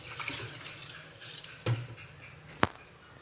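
Water is poured into measured rice in a pot for vegetable biryani, quiet splashing and trickling with a couple of sharp clinks of a tumbler against the vessel.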